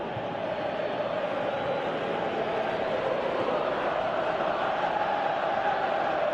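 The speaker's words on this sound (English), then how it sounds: "Crowd appreciates good football all round there." Stadium crowd noise in PES 2018 football, a steady broad roar of many voices murmuring and cheering, sustained evenly throughout at moderate distance.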